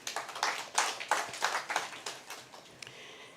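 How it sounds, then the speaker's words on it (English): Small audience at an annual dialogue in Uganda clapping for the working group, a brief burst of uneven hand claps that thins out and fades to near quiet. "Please let us give a round of applause to them."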